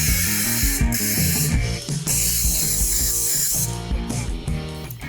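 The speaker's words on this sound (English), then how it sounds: "it's time to add our cooking spray to make sure these poppers don't stick." Several bursts of aerosol cooking spray hiss close by onto a baking sheet in quick succession, with brief pauses between sprays.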